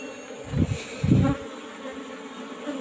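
Apis cerana honey bees buzz during a honey harvest from an old-style hive box, with two short louder swells as bees pass close, over a low steady hum.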